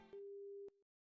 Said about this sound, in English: She states the obvious and then hangs up on me.